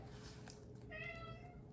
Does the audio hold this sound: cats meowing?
yes